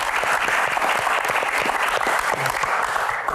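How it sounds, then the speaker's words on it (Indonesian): A crowd applauds Sherly Annavita during a talk event, steady and fairly loud clapping filling the whole moment without pause. "Tepuk tangan dulu buat Sherly."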